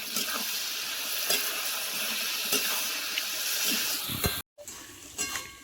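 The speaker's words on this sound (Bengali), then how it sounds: "স্বাদ মতো লবণ, হলুদ গুঁড়ো দিয়ে আমি ভালো করে সবজিগুলো ভেজে নেব" Vegetables, including cabbage stalks and potatoes, fry in a pan with salt and turmeric, a loud, continuous close-up sizzle broken by occasional stirring scrapes, with a brief drop-out near the end and no talking.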